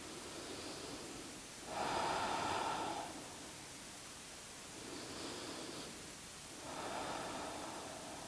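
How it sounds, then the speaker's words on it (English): Slow, deep breathing in yoga child's pose: three long soft breaths, each a gentle airy swell rising and fading, separated by quiet pauses, faint and close. "Let's take 5 long breaths here."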